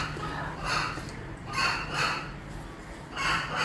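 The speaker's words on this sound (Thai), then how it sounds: "เสียงไก่นั่นครู ร้องเสียงดังมากเลย" A rooster crows loudly in several repeated bursts a second or so apart, nearby and outdoors, with steady background noise between calls.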